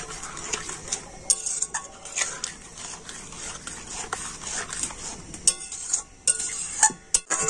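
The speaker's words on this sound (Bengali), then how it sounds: "আর এখন আমি হালকা জাল দিয়ে খুব ভালোভাবে নাড়াচাড়া করে এটাকে শক্ত ডো তৈরি করে নেব" Semolina and milk being stirred over low heat into a stiff dough, with steady scraping and clinking of a spoon against a pot, irregular knocks and louder clatters near the end, no talking.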